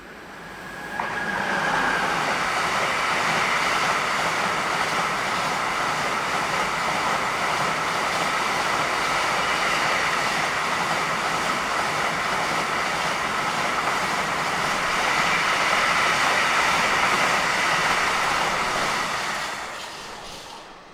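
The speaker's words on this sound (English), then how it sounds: "One 189155 has a trainload of serial wagons from Meppen to Břeclav in the Czech Republic." Locomotive 189155 hauls a long train of freight wagons through Hannover-Linden station, giving a steady, sustained rolling roar that swells and holds for about twenty seconds before easing off.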